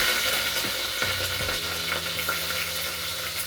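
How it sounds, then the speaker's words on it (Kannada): Garlic fries in a pan for mutton chops and ghee rice, giving a continuous loud, close sizzle with faint stirring scrapes and a low steady hum beneath it. "ಬೆಳ್ಳುಳ್ಳಿ ಚೆನ್ನಾಗಿ ಫ್ರೈ ಆಗಬೇಕು."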